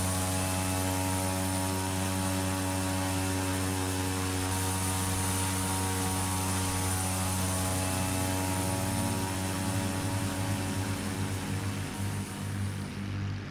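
A Cessna Grand Caravan C-208-B turboprop landing at Bartow Executive Airport, Florida, heard from the cabin as a loud, steady propeller and engine drone with a strong tonal hum that continues unbroken, without voices.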